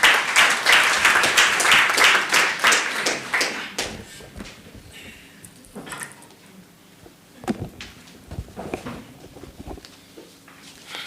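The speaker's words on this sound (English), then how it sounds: "Can you please give him a round of applause?" Applause at a community indaba on elections, loud and dense for about four seconds before thinning into scattered claps and taps for the rest of the stretch.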